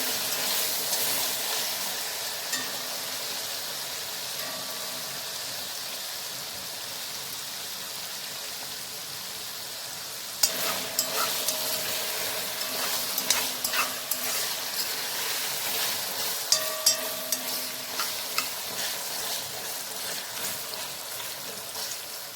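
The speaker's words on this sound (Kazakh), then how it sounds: "Енді қуырамыз осылай қызартып." Meat browning in hot fat in a pan for a rice dish, a continuous rain-like sizzle that grows busier halfway through, with occasional sharp pops and spatters.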